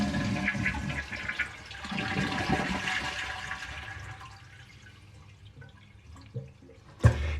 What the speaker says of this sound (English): and then flush your toilet.